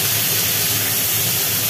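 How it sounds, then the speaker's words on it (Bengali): Malabar spinach stems frying on black cumin seeds in a pan give off a steady, broad sizzling hiss that holds level and unbroken throughout. "একটু ভাজি ভাজি হচ্ছে।"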